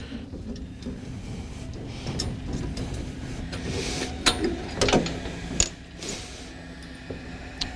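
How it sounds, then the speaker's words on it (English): A metal man ladder is pulled off a mobile shipboard training unit after its two pins are removed, giving close creaks, clanks and a few sharp metallic knocks over a low background hum, with no voices. "Ladder comes off."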